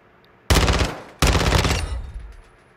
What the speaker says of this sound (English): That's a submachine gun.